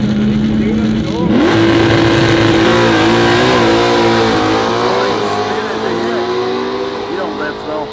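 A Camaro and other drag racing cars roar down the strip at a Nitro Nationals event, a loud, sustained engine howl that climbs in pitch as they accelerate, with an announcer talking over it.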